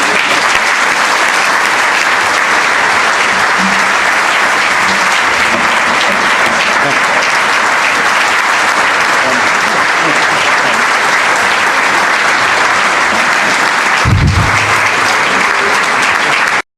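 A banquet audience gives long, sustained applause to welcome the president of the Bermuda Industrial Union at a Labour Day dinner, a steady, dense roar of clapping that holds loud throughout, with a brief thump near the end.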